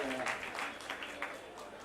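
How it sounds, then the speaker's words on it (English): An audience at an animal-welfare event at Mithibai College in Mumbai claps, a moderate, fairly distant patter of many hands with voices heard among it. "all of us must clap for this"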